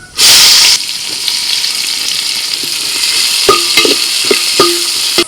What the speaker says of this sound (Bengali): দিয়ে দিচ্ছি পেঁয়াজ কুচি